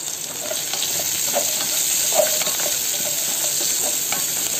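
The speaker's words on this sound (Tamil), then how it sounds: "எண்ணெய் ஊற்றி கடுகு பொறிஞ்சோடனே சின்ன வெங்காயம் போட்டு இப்படி வதக்கிட்டுருக்கேன்." Shallots sautéing with popping mustard seeds in hot oil give a steady, close sizzle, with small crackles and occasional spoon-stirring scrapes throughout and no voices.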